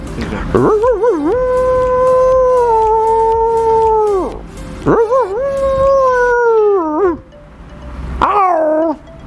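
A man in Lahore mimics a dog crying at night with three drawn-out howls, each wavering at the start and sliding down at the end; the last is short.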